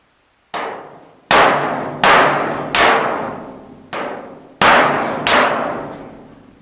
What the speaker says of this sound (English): I hammer on the inside here